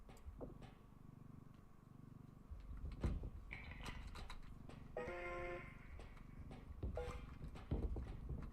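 Horse hooves clip-clop in the video game Schedule 1, a light uneven trot of hoof taps with some brief tonal game effects and a few sharper knocks over a steady low background hum.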